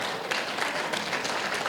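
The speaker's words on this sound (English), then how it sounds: "Go ahead, you can clap, it's okay." Gala audience applauding, a steady dense wash of many hands clapping close and fairly loud, with no pauses across the short stretch.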